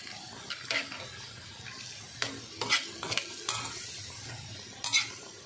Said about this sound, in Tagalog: Tunawin muna natin yung pork cubes.